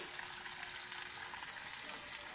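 Food fries and spatters in a pan, a steady dense sizzle with small crackling pops running throughout, close and fairly loud, with no talking.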